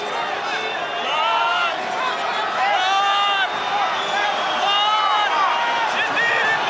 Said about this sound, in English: the noise from this crowd